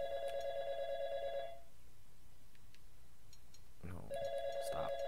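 An electronic phone ringtone in an RPG game, two ring bursts of steady repeating tones separated by a quiet gap, with a few short clicks, fairly faint and with no speech.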